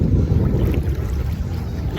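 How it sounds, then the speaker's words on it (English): Boat out on the open ocean, a close, steady rumble of hull, water and wind buffeting the microphone, continuous and fairly loud for a couple of seconds. "That's our boat"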